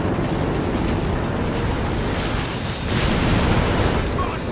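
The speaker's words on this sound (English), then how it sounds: "Naval Warfare barrage coming in to blunt this Allied push" A naval warfare artillery barrage pounds the battlefield in Company of Heroes 3, a dense, continuous roar of overlapping explosions and rumbling blasts that stays loud and steady throughout, swelling slightly near the end.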